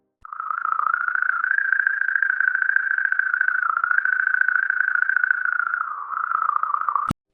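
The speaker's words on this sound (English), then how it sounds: "The sound signature from 6-7P was completely different from that of any previously studied comet" Sonified space recording of plasma around comet 67P: a steady, warbling electronic tone that wavers slightly in pitch, holds for about seven seconds alone, then ends abruptly with a click.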